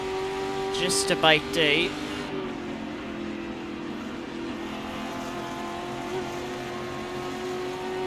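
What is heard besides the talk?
Ford GT40 race car accelerating in video game Assetto Corsa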